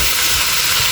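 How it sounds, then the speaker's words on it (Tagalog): Garlic and onion sauté in a hot pan at home for adobo, giving a steady, close, dense sizzle and hiss that fills the whole second with no talk over it. "ginisa ko na yung bawang at sibuyas"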